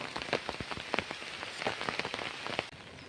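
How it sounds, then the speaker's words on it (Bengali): Morning rain falls beside paddy fields, a dense close patter of drops striking a surface in irregular bursts, steady and unbroken with no voices. "বৃষ্টিটা হচ্ছে"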